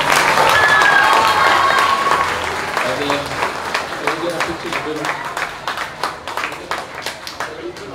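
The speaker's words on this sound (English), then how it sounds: "So let's give them a round of applause." Loud applause from a crowd at a school awards assembly for grades 3 to 5, dense at first with cheering and a bright whistle-like tone, then thinning into scattered individual claps that fade toward the end.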